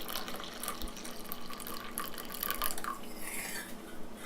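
Warmed milk being poured into a cup for coffee, a steady liquid trickle and splash close by, lasting a few seconds and ending with a brief clatter.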